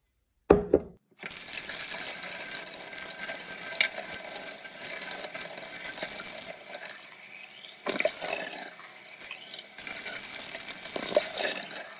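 Water runs steadily from a tap, splashing as puppy feeding-bottle parts and a mason jar are rinsed in lukewarm water, with a brief clatter at the start and short breaks in the flow.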